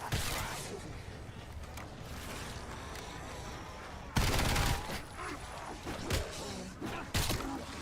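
Bursts of automatic gunfire from a new weapon in the Call of Duty: Black Ops 7 Zombies game, with rapid repeated shots and loud thumping blasts mixed into busy in-game action.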